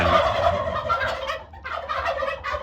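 A turkey gobbles repeatedly in a steady rattling run of calls, fairly close, with no talking.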